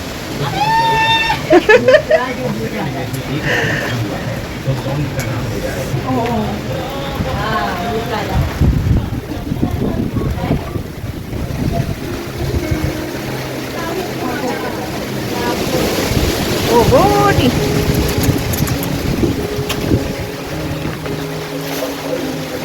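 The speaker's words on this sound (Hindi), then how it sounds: "बारिश हो गई बहुत तेज" Heavy rain and strong wind at a village mud house, a continuous rushing roar with gusty swells, joined by voices and other household sounds throughout.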